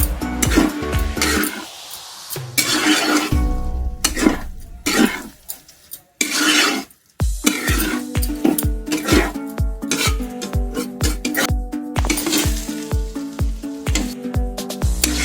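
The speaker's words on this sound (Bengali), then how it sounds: "এবার হালকা হাতে ডালটাকে মশলার সঙ্গে ভালো করে মিশিয়ে নেব।" Dal being mixed with spices in a pan with a metal spoon, giving loud, close scraping strokes, then a fast regular series of clinking stirs in the latter half, with brief pauses and a cough between.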